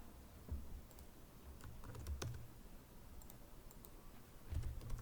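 Computer keyboard being typed on while entering a file path, a quiet run of soft, irregular key clicks over steady background hiss, with a slightly louder tap in the middle.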